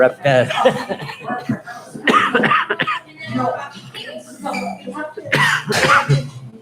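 Someone coughs repeatedly in short rough bursts mixed with chuckling and talking, close and fairly loud.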